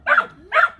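A dog gives two short barks in quick succession, close and moderately loud, with a brief pause between them and no talk.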